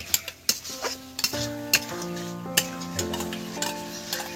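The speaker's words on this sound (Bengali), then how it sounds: "এবার একটু এর মধ্যে জল দিয়ে দেবো, জল মিশিয়ে, আর আমি ওই যে মশলাটা কষছে তো ওর মধ্যে আমি দিয়ে দেবো" Water goes into sizzling fried spice paste for a large sea fish curry, and a spoon stirs it, clinking sharply against the pan over a hissing, bubbling sizzle.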